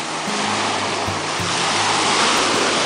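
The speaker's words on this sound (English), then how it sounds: "at the beach in Alaska." Ocean waves washing onto a beach at Seward, Alaska, a broad, steady roar of surf with low wind rumble, loud and continuous with no talk.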